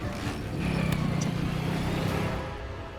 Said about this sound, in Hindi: गाड़ी दूसरे रास्ते से निकालते हैं।